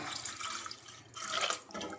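Mango pickle brine pouring and trickling steadily, close by, with a brief lull before a second stronger splashy pour.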